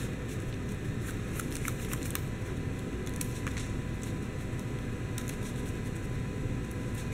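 Soft, rapid riffling of a trading card game deck being shuffled, quiet and close, in short crisp bursts over a faint steady background hiss.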